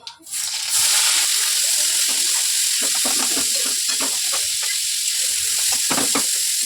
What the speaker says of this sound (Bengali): কালো জিরে ফোড়নে দিয়ে পেঁয়াজ কুচোটা